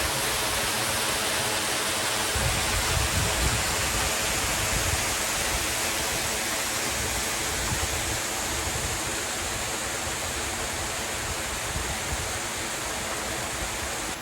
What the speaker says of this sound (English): We actually have a waterfall back